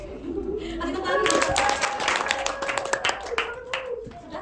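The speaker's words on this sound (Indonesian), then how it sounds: "Kasih tepuk tangan." A class of students claps hands for a classmate after a poetry reading, steady scattered clapping that swells in the middle, with voices talking over it.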